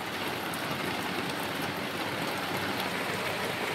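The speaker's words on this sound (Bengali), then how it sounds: "এদিকেও প্রচণ্ড পরিমাণে বৃষ্টি হচ্ছে" Heavy night rain pours outside an open window, a dense, steady hiss that holds evenly the whole time with no other sounds.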